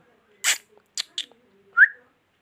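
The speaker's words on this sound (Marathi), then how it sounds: "पक्ष्यांचे आवाज पण ऐकायला येत आहे" A few sharp bird calls ring out in a quiet Konkan village: one broad burst, two short chirps, then a clear rising whistled note, with pauses between.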